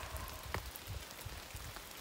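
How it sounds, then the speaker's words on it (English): Steady light rain on the Appalachian Trail in the Tennessee–North Carolina mountains, an even patter of drops with a few soft louder taps, faint and continuous with no voices. "The rain has lightened up a little."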